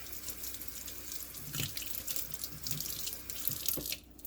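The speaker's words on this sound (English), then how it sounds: "I'm going to use just a little bit of dish detergent on this, some warm water" Warm tap water runs steadily into a kitchen sink as a knife is rinsed, with splashing shifts in the flow and a few clinks.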